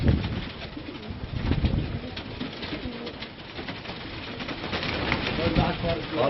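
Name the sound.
pigeons cooing and flying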